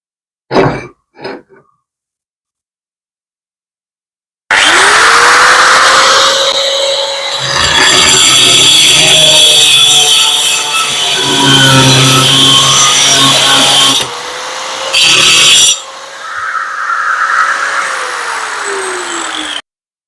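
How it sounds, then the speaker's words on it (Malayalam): A power tool cuts a small piece of tile in one long, loud, close whine that pitches up and down as the blade bites, ending in a brief drop and a second surge, after two short clicks and a pause at the start. "ഇനി ഒരു ചെറിയ ടെയിലിന്റെ പീസ് ഒന്ന് കട്ട് ചെയ്ത് നോക്കാം കട്ടാവും നോക്കാം"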